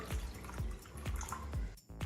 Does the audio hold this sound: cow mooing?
no